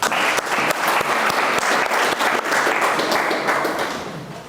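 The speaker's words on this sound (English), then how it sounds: "I think he deserves another hand clap." Audience applause at a medical grand round lecture, steady dense hand clapping close by that holds strong and then tapers off toward the end.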